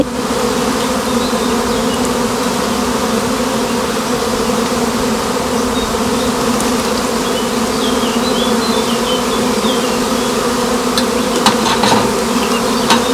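Honeybees from overwintered swarms being moved out of a nucleus hive make a dense, steady, loud buzz close by, with occasional sharp taps and knocks against the frames.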